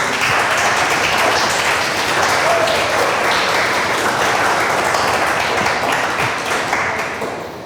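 A church congregation bursts into sustained applause for the Lord after a sermon, many hands clapping in a dense, loud wash that holds steady for several seconds before starting to fade.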